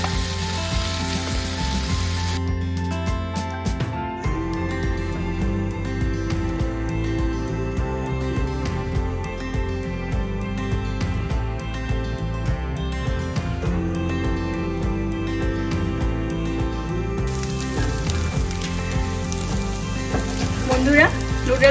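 Sticky noodles dropped by hand into a frying pan sizzle steadily beneath loud background music throughout.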